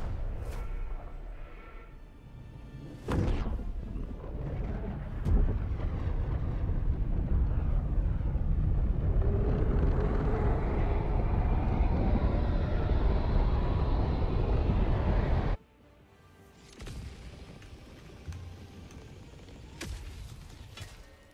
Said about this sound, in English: Launch initiated.